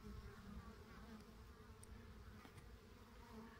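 Honeybees buzzing at a hive entrance on a spring day as they bring in the first pollen; a steady, soft, continuous hum of many wings with no voices.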